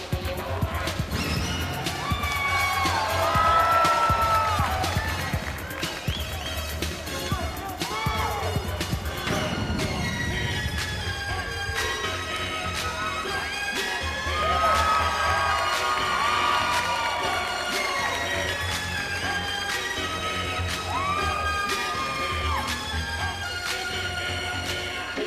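A crowd at a bodybuilding competition cheers loudly as a bodybuilder holds his pose, whoops and shouts rising and falling in sustained waves over a mix of claps and noise.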